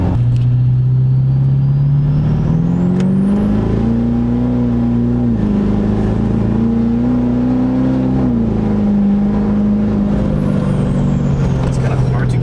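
Turbocharged car engine driving and accelerating, a loud steady drone that climbs and falls in pitch as the revs rise and settle, continuous throughout with road and cabin noise, no clear talk over it.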